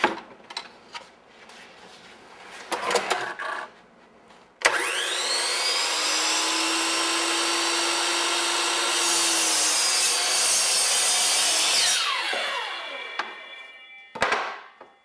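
Power miter saw cutting wood trim at an angle for wainscoting, a short burst of noise before the blade spins up into a steady loud whining cut lasting several seconds, then winding down, followed by a brief clatter.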